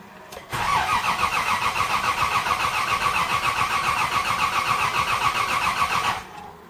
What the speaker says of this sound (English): Well, let's see if it starts.